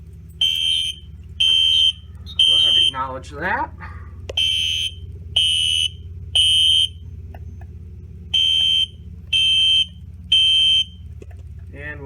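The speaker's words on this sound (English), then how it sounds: "And it goes right back again into alarm." A fire alarm panel system sounds its alarm in a series of loud, evenly spaced electronic tone bursts, about ten pulses with short gaps between them, while a person speaks briefly and a low background hum continues.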